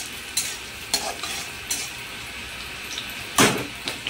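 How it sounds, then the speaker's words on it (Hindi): Garlic fries with fennel seeds in a pan, giving a steady sizzle broken by sharp scraping stirs, one louder stroke near the end, with no talking. "लहसुन हमारा फ्राई हो रहा है"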